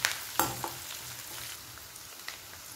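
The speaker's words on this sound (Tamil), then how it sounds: "மாங்காய் சேர்த்து ஒரு 5 நிமிஷம் நல்லா எண்ணெயில் வதக்குங்க" Pieces of green mango sauté in hot oil, giving a bright crackling sizzle with a few stirring scrapes near the start, close and moderately loud with no talking.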